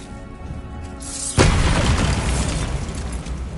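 A Bombarda explosion spell detonates in Hogwarts Legacy, a sudden loud boom about a second and a half in that rolls into a sustained crackling, debris-filled rumble after a quieter stretch.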